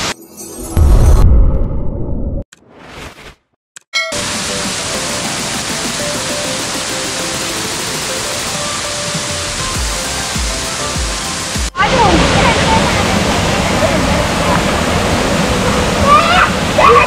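Mankulam's 33 waterfall near Munnar roars as a constant broadband rush that fills most of the clip, loudening after a cut, with someone talking briefly at the start.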